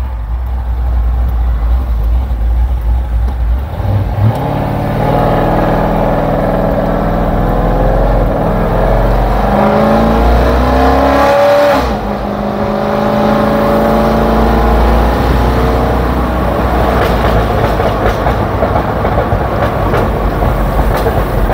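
A very loud widebody C6 Corvette pulls hard in third gear, its engine roaring continuously close up with a rising pitch, a brief dip as the revs change midway, then a steady drone to the end.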